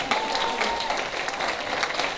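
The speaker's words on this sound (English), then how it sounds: "Big round of applause for the third quarter honor roll." Audience applause fills the room at a school honor roll ceremony during the 2022 Bridgehampton School Day of Achievement, a steady, dense clapping from a moderately sized crowd.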